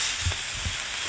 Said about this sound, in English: I'm going to toss these.